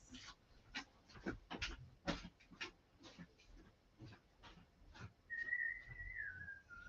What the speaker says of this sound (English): just left you with the dulcet snoring tones of my French bulldog